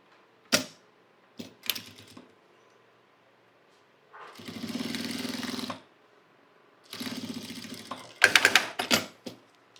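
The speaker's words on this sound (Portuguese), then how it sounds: "Começo costurando aqui na dobra do meu viés." A sewing machine stitches along the fold of fabric bias binding for a handmade Bible cover, running in two sustained bursts with a few sharp clicks and handling knocks between, close and fairly loud.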